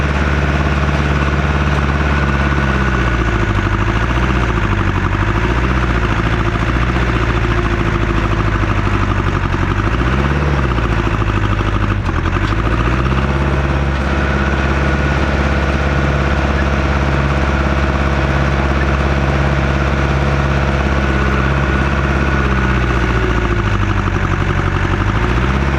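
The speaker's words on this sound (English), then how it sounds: "Let's go down there and push the tree." A heavy machine's engine runs steadily and loudly for the whole stretch while it pushes over a tree, a deep low rumble with a few brief revving swells and dips, and no one talking.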